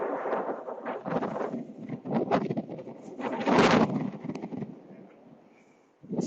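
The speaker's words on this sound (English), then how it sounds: "Wow, it's windy up here." Gusty wind roars and buffets steadily in the open air on a rocky seaside, rising into a stronger blast midway before easing off.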